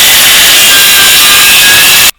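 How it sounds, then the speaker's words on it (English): A skill saw with its blade set just under 3/4 inch cutting a strip from a mold for concrete casting, giving a loud, steady, harsh whine that runs nearly two seconds, then stops abruptly. "So let me use a skill saw."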